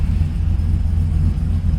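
A 1985 K5 Blazer truck converted to two-wheel drive with an LS 5.3 V8 and 4L60 transmission idles close by in a steady, deep, even rumble.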